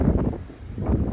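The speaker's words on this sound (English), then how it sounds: "I'm not sure if you can hear me, it is quite windy." Strong wind during a dust storm on a rail bridge over the river in Mildura, buffeting the microphone in low, continuous rumbling gusts that swell, dip briefly and rise again.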